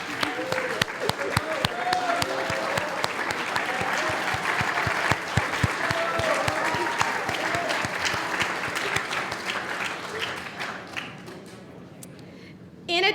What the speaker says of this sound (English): I would like for them to please stand so we could give them a round of applause.